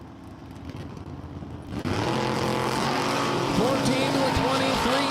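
Drag race cars, a Chevy S10 and a Chevy Camaro, launch at a dragstrip during WDRA racing at Empire Dragway. Engines idle quietly at first, then burst into a loud, close roar, with revs climbing and dropping in pitch.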